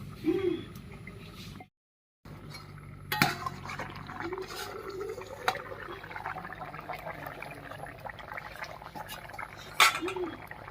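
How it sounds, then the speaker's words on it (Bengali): A lid comes off a pot of fish curry with potato and pointed gourd, and the pot is lifted off the stove, giving a few close metallic clanks and scrapes over low kitchen background noise and a brief silent gap. "আলু পটল দিয়ে মাছের ঝোল একদম রেডি হয়ে গেছে এবার ঢাকা খুলে নামিয়ে নিচ্ছি"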